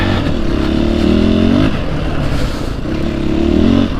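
A Husqvarna 501 FE motorcycle rides in second gear, its engine loud and close with a steady rumbling drone that swells, eases, then builds again, mixed with wind and rattling.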